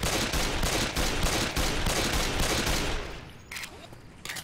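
Dense, continuous gunfire rattles from a Left 4 Dead 2 firefight, loud and steady for several seconds before thinning out into a couple of last separate shots.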